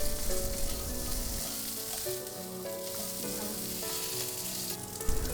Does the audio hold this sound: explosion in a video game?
no